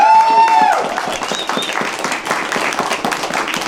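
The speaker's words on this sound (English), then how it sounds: "So can we give him a big round of applause?" Crowd applause at a Movember charity event, a dense, steady burst of many hands clapping that starts right away and carries on at full loudness, with some faint voices mixed into the noise.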